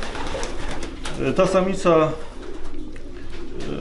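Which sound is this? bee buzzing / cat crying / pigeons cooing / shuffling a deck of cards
pigeons cooing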